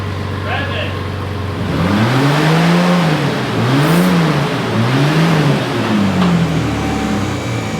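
A Morrvair car engine with three caps revs up and down in smooth rising and falling sweeps, loud and close, over a steady idle, with a voice briefly audible.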